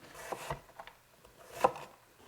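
A knife works through a whole onion for burgoo, giving a few soft, scattered cuts against a board, faint and close with quiet pauses between.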